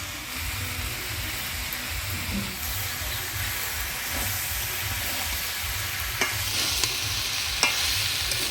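Cabbage, peas, green chillies and spices frying and being stirred in a pan, a loud continuous sizzle with occasional scraping knocks from the spoon.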